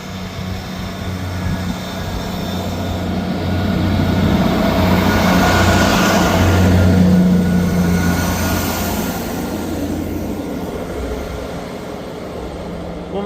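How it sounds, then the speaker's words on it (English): ScotRail Perth to Edinburgh Waverley passenger train departing Ladybank station, a broad rumbling engine and wheel roar that swells to a peak mid-way and then slowly fades as it pulls away, with no talk. "Departing out now is the delayed 14:49 ScotRail service from Perth to Edinburgh Waverley"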